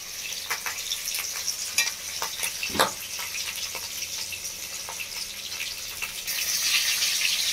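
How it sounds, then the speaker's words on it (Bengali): Rohu fish pieces fry in hot oil, a continuous crackling sizzle with sharp pops and spatters, growing brighter toward the end, with no talking. "মাছটা ভাজা হয়ে গেছে দুটি, মাছটা আমি তুলে নিচ্ছি।"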